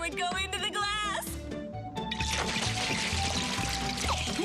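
Water pours and splashes onto a tabletop instead of into a glass, a steady close trickle heard over background music.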